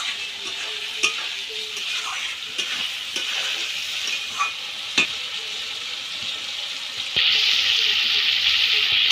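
Masala spice paste fries in oil for a rui fish curry, a steady close sizzle with regular scraping stirs and occasional clinks, the hiss swelling louder toward the end.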